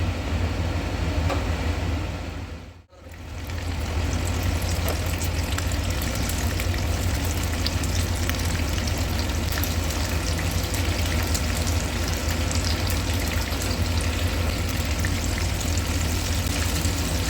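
Battered prawns fry in hot oil with a dense, loud, steady hiss and crackle close by. The sound dips briefly early on and then continues unbroken.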